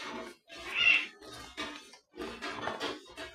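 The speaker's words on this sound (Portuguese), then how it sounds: "Não, é o gato batendo nele." A cat meows, a short nasal call among soft bumps and knocks as it butts against an object, fairly quiet and close.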